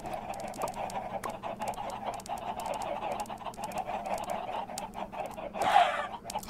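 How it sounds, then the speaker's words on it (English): Chickens clucking in Minecraft, a steady flock of clucks and panting game squawks repeating over a low hum, with a louder flurry near the end as they're struck with a sword. "So I swing my sword and I hit like 20 chicken."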